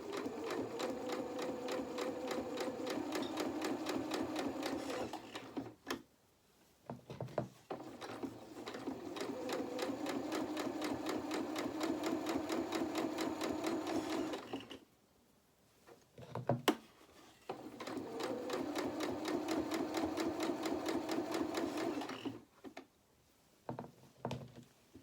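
A sewing machine runs a straight top stitch along a doll's jeans in long steady runs of rapid stitching, each lasting several seconds, broken by short pauses with small clicks and handling noises.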